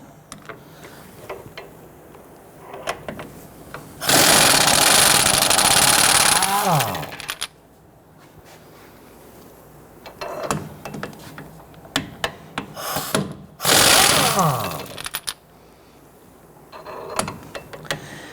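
Hub bolts on a 1992-1996 Toyota Camry rear wheel bearing assembly being loosened and removed with a power tool: two long, loud grinding bursts separated by quieter clanks and handling noises.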